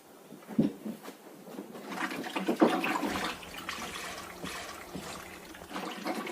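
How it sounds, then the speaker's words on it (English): Water is poured from a jug to rinse dishes, giving uneven splashes and a trickling flow close by with soft clinks and no one talking. "Now go bring me another jug of water to rinse my dishes."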